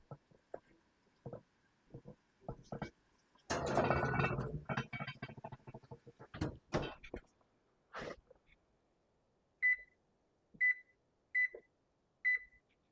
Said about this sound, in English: My timer is going off